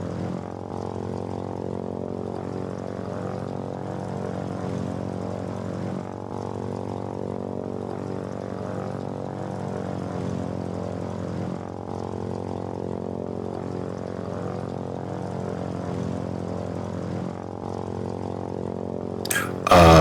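A propeller aircraft engine drones steadily throughout during flight in the Foxhole video game, a continuous close buzzing hum with even loudness and a brief louder burst at the very end.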